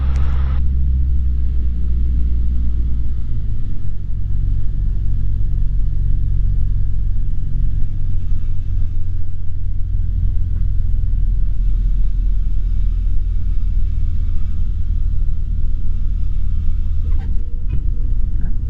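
Small airplane engine in the landing pattern at a gusty airfield with the throttle being eased back, a steady loud low drone and rumble running throughout with little change, no talking over it.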